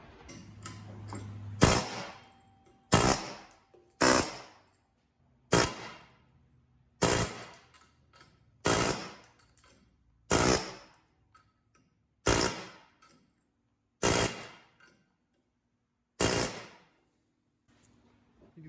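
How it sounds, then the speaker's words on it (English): Sharp bursts from an air hammer working on the rear brake rotor of a Ford Transit 350, about ten short rattling blasts spaced a second or two apart with quiet gaps between, heard up close in a shop. "I'm going to use an air hammer just because I have one."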